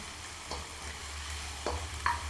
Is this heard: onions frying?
yes